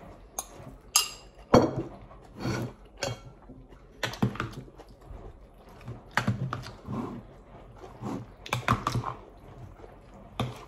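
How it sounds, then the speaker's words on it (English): Spicy piri-piri salmon salad tossed in a bowl, with irregular clinks and taps of utensil against bowl, close and sharp, coming in short bursts separated by quiet gaps. "Mix ko na siya dito, mga kapatid."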